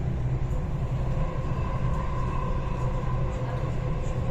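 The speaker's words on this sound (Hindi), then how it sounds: "गार्डन मेट्रो स्टेशन की तरफ ट्रेन रवाना हुआ इस टाइम।" A Dubai Metro train departs toward Gardens station, its steady low rumble filling the whole stretch at close range, loud and unbroken with no clear voices on top.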